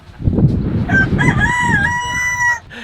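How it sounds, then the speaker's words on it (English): A rooster in Key West crows once, close and loud, its long wavering call rising and then trailing off. "There's a rooster just walking around here."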